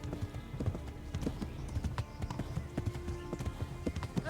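Horse hooves clip-clopping in a rapid galloping rhythm in the medieval video game Kingdom Come: Deliverance, fairly quiet and steady, with occasional faint game sounds.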